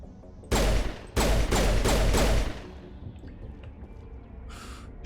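Several loud, close bursts of gunfire from the video game Mass Effect fire in quick succession over about two seconds, then fade into a low rumble with faint game effects and a brief hissing swell near the end.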